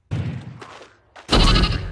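Two short sheep bleats, the first a wavering nasal cry, the second louder and harsher, heard up close with no talking.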